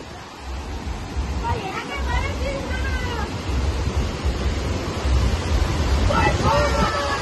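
Sea waves wash in at a beach under a full moon, a steady loud surf roar with wind, and people talk over it.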